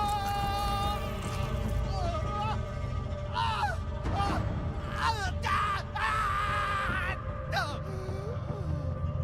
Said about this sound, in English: You get to listen to the voice actor scream.